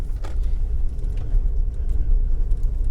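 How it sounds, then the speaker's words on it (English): A truck approaches along a road near a wind turbine, heard as a steady, fairly loud low rumble with no voices. "There's a truck coming probably to tell us to not go near the wind turbine"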